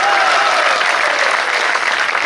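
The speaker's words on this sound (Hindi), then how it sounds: "इसमें ताली बजाने वाली कोई बात नहीं थी।" A crowd at a Hindi comic poetry gathering claps in loud, dense, steady applause that fills the whole moment without a break.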